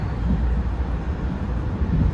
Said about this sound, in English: A path train headed for Newark.